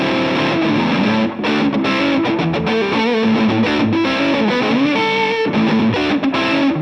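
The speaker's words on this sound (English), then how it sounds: "I tend to avoid these neck pickups when the distortion's on. It just gets a little muddy, a little cloudy." Thick, heavily distorted electric guitar riffing on a Minarik Medusa Super Custom's neck pickup, with a warm, slightly muddy low-mid tone, sustained chords and note runs played loud throughout.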